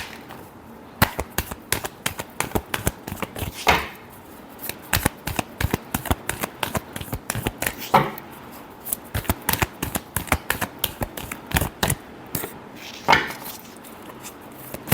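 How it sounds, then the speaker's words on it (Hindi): Tarot cards shuffled by hand in rapid repeated riffles and taps, a dense crisp flutter with periodic louder slaps, close and continuous for the whole stretch with no talk. "Last shuffle."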